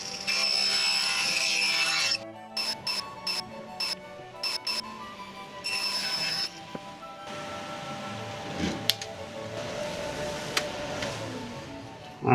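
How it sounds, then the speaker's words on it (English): Wooden boxes are cut down about a centimetre at the top, a steady close sawing and grinding with choppy interrupted bursts, then rougher scraping and clunks. "I need to chop about 1 centimetre, I reckon, off the top of the boxes"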